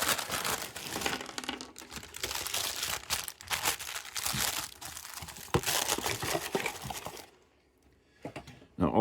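A standard paper bag crinkles and rustles close by while a Hasbro G.I. Joe Classified Series Cobra Ferret ATV and Ferret Scout toy is unboxed. The handling noise is dense and continuous, then drops to near silence before a final rustle.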